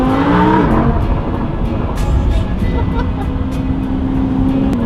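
A Lamborghini Huracan sports car engine hums and revs steadily while driving, a loud continuous drone with tonal shifts, heard from inside the car.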